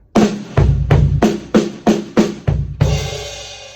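Close drum kit pattern: a flammed opening hit, a run of punchy kick and snare strokes, then a ringing crash cymbal.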